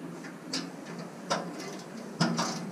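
A socket wrench ratchets on a drive shaft bolt under a Nissan 300ZX Z32, three separate bursts of quick metallic clicks, close and moderately quiet against faint background noise.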